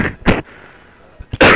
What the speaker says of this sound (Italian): E riparte la tosse.